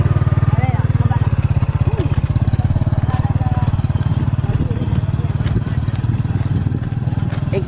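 A motorcycle engine runs with a steady, close chugging pulse while a learner rides it, the throttle holding fairly even throughout, with people talking over it.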